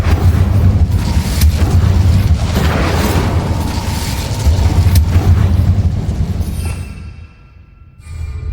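The Incendio fire spell in Hogwarts Legacy, a loud roaring, rumbling blast of flame that sustains for several seconds before dropping off sharply, followed by a brief renewed whoosh.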